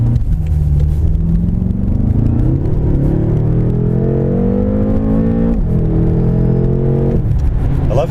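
A 2015 BMW M5 30 Jahre edition roars loudly from inside the car as it accelerates, the engine note rising steadily through a gear, dipping briefly at a shift and climbing again.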